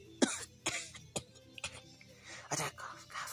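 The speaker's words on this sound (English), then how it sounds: "I don't cough, cough quietly." Quiet coughs and throat clearing come in short bursts, five or six spaced through a few seconds, nearby and soft, with faint voices around them.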